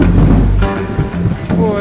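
Heavy rain pours steadily while a deep rumble of thunder rolls underneath at the start, with a voice faintly audible through the storm.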